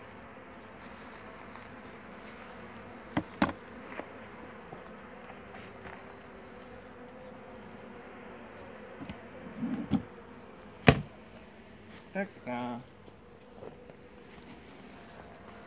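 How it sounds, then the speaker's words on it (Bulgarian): Honey bees buzz steadily around an opened hive as honey is harvested from the combs, a soft continuous drone with a few brief louder bumps and knocks near the end. "Да, пчелите се сърдят, но кой не се сърди, когато му взимат кокала?"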